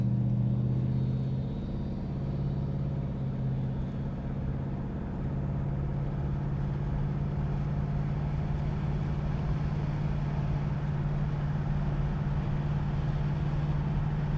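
A 1969 Dodge Charger cruises on the road with an automatic transmission, its engine giving a steady, loud low rumble and drone close by, with road noise throughout and no talking.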